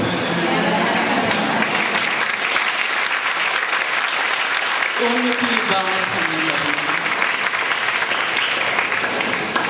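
Steady applause from an audience at a family satsang fills the whole stretch, dense and continuous, with a brief spoken phrase heard partway through.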